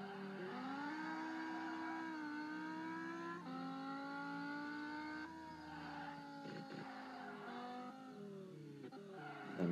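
A Dodge SRT Viper ACR in the Assoluto Racing video game roars with a sustained high engine drone that climbs and dips through gear changes, steady and loud throughout with no talking.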